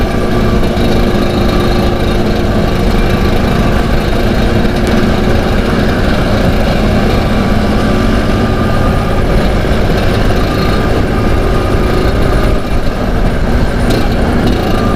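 Several Vespa scooters rev and putter together on a Bali toll road, a loud continuous two-stroke engine drone with rising and falling throttle, close by and steady for the whole stretch, with no talk.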